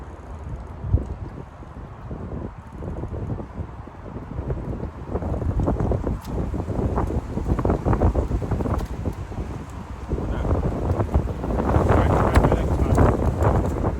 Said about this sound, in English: The wind has slowed down a little bit.